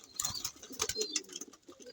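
Racing pigeons in a loft make soft, repeated cooing calls up close, with a few brief flutters and chirps mixed through the short stretch.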